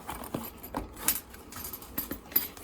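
A zip-up suture instrument kit with a plastic divider is opened up close, giving a quiet run of soft clicks and light metallic rattles spaced irregularly, with no one talking.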